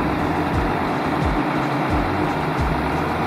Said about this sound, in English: the big tractor's gonna tow it